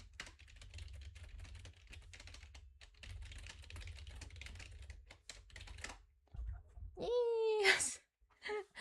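Rapid clattering of computer keyboard keys fills most of the clip, with a brief spoken voice near the end.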